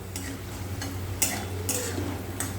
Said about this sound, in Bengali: এইরকমভাবে ভাজা করে নিতে হবে।